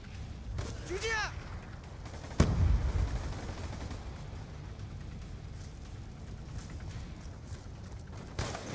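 Sniper rifle shot in a Call of Duty match: one sharp, heavy report lands partway through, with fainter game noise and a whistling effect earlier, while a voice talks over the action.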